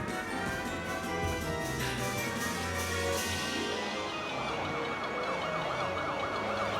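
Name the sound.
police car sirens in the video game Policenauts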